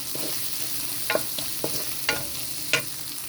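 Butter sizzling in a pan while biryani ingredients fry, a soft continuous hiss punctuated by several brief scraping clicks of stirring, close and moderately loud, with no talking.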